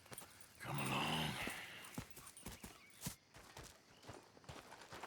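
Video game horses' hooves clop at a walking pace, uneven and moderately close, with a short low whinny-like snort early on, in Red Dead Redemption 2.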